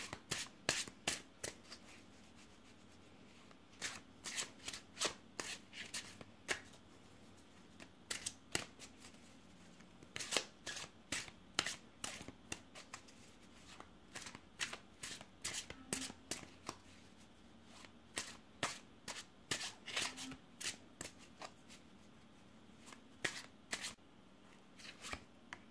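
Tarot cards are shuffled by hand in a quiet room, a long run of soft, crisp riffles and flicks coming in irregular bursts, close and alone with no talk.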